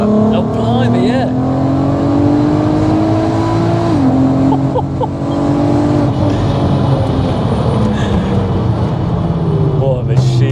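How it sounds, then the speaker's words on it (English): A supercharged Mk5 VW Golf R32, self-built to over 450 bhp with a DSG gearbox in auto, accelerates hard under full throttle, its engine roaring loud and close from inside the car as the pitch climbs and a gearshift briefly drops it. "You put it into auto and then you just plant your foot."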